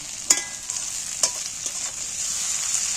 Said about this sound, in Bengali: দুটো একসাথে ভালো করে নাড়াচাড়া করে ভেজে নেব